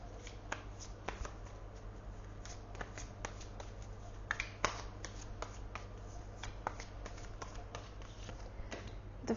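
Tarot cards shuffled for a yes-or-no reading, a steady run of crisp riffling taps and flicks close up over a low constant hum, with no talking.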